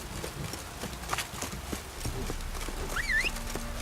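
Horse hooves clip-clopping in The Witcher 3, a steady walking-to-trotting rhythm under game ambience with a brief bird-like chirp near the end.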